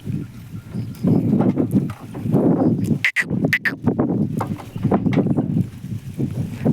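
Bullock hooves clop in a steady rhythm with creaking and rumbling as a bullock cart rolls along on a farm, fairly close and continuous, pausing briefly midway.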